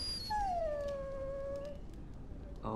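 A dog in the video game Dragon Age: Origins lets out a long, high whimpering whine that slowly falls in pitch. It sits over a faint ambient game backdrop and ends with a brief burst of other game sound.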